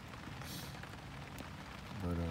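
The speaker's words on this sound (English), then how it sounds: "And it's raining pretty hard." Heavy winter rain drums steadily on a tent in a quiet, low-level wash of drops, with a voice speaking softly near the end.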